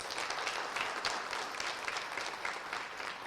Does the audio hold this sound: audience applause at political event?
yes